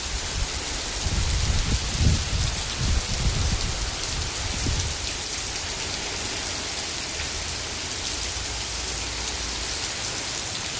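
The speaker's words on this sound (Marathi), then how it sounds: "वाऱ्यासकट पाऊस आहे" Steady rain driven by gusty wind during an outdoor crab-hunting trip, a dense broadband hiss with low rumbling gusts that swell in the first few seconds, then a continuous even downpour with no talk.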